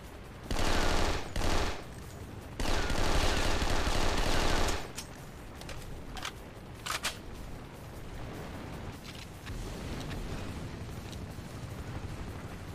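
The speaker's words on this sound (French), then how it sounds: "il venait d'essayer de me tirer dessus, je crois" Bursts of rapid automatic gunfire and explosion-like blasts in a video game, loud and dense for the first few seconds, then fading into scattered distant shots and rumbling background noise.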